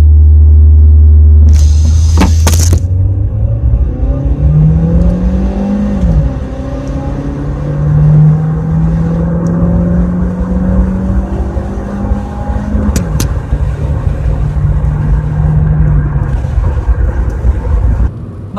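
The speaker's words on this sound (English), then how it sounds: "we'll ask the owner to do some launching and 0 to 100" A 2008 Suzuki Swift Sport accelerates hard from 0 to 100 in a launch run. A loud engine roar climbs in pitch, drops back at each gear change and then climbs again, heard up close throughout.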